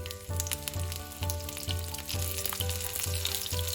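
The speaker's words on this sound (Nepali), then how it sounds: "तेल एकदमै तातेपछि मैले यसमा पुरा आधा सानो चम्चा मेथी र मेथी यतिको पछि मैले यसमा फुराएँ 2टा हरियो खुर्सानी" Fenugreek seeds and two green chillies sizzle in very hot oil, a close, steady frying crackle with regular pulsing clatter from stirring throughout.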